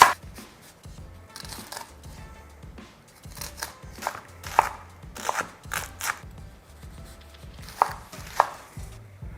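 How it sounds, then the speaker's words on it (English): A knife chops onions on a cutting board in irregular bursts of sharp crisp taps, some louder strikes standing out, close and clear with no talk. "The next thing we're gonna do is chop up our onions."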